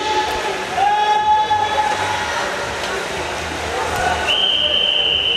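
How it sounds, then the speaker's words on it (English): Referee whistles signalling the start of a swimming heat at an indoor national winter championship pool, two sustained shrill blasts over the echoing hall noise and crowd murmur. "we start to hear whistles in pool 2 for heat 4 as well"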